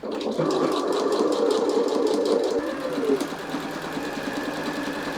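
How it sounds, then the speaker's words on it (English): A sewing machine runs steadily and loudly while hemming the bottom of a thrifted dress. The needle chatters in a fast, even rhythm close by for several seconds, slowing slightly near the end. "Gonna hem the bottom now, and I like to start at the side."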